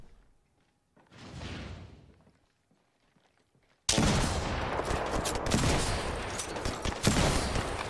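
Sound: gunfire in a video game

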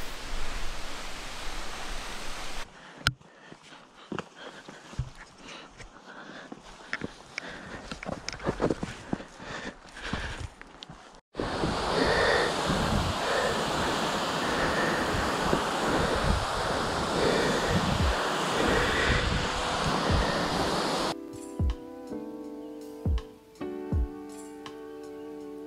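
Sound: Fossá waterfall, Faroe Islands

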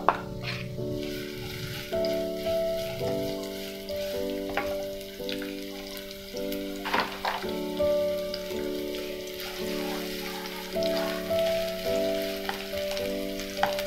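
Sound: sliced shallots frying in hot oil

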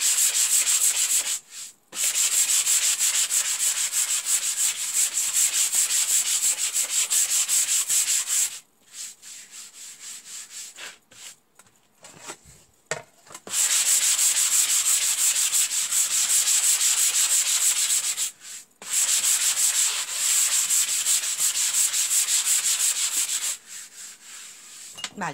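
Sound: light sanding of painted wood

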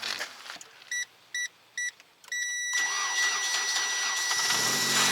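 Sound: car engine starting

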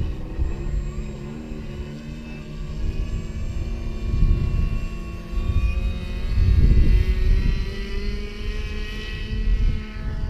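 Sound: aircraft taking off at an airfield

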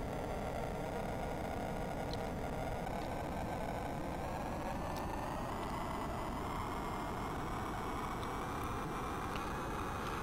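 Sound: white noise engine sound from C64 video game Acrojet

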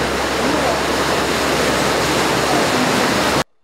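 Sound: floodwater flowing along streets after heavy rain

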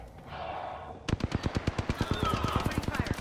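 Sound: gunfire in video game Apex Legends

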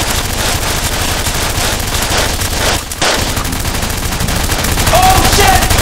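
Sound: gunshots with muzzle flare in a living room shootout

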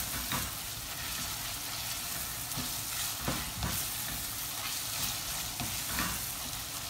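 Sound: chops being stirred and fried in a pan

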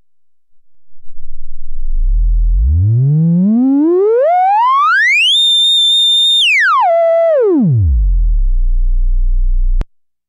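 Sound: sine wave sweep from Electro Smith 3340 VCO Eurorack module

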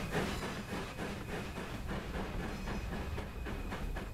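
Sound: steam locomotive chuffing, Class Fowler 4F, Train Sim World 3 video game

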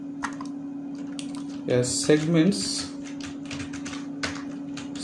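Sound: typing code on a computer keyboard

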